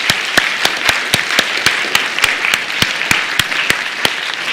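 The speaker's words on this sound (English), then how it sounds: "let's give our electrons a round of applause" Audience applause for a quantum computing and nanotechnology demonstration, loud sustained clapping from a crowd with sharp individual claps standing out, continuing steadily throughout with no talking over it.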